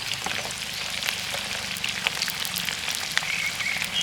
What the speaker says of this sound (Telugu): నూనెలో చికెన్ ముక్క చికెన్ లెగ్ పీస్ ఉడకతుంటే